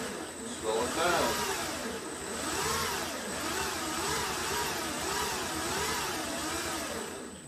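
Electric motor powered by a Toyota Prius inverter on a bench setup, fed by a DC supply and controlled by signal equipment, changes speed. A steady whine rises and falls in repeated wavering sweeps, with a constant high tone and faint talk under it.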